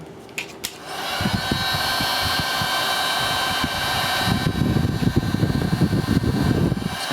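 Steady whirring blower of a heat gun heating heat-shrink tubing on a Molex sleeve, a continuous close hum with faint rustling handling noise.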